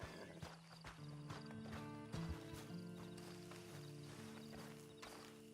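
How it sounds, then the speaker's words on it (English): Horse hooves clip-clop in the Western video game Red Dead Redemption 2, a steady walking rhythm of distinct hoof strikes over sustained tonal background music, with a faint whinny-like sound mixed in. "Then you better get on this horse."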